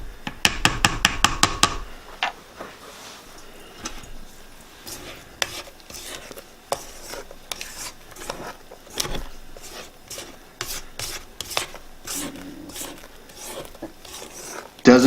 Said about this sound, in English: take your spatula and finish mixing the batter by hand